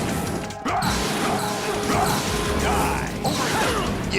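An explosion in the video game Metal Gear Solid 2 bursts with a heavy crash and clattering debris, followed by rolling mechanical rumble and further impacts, loud and near.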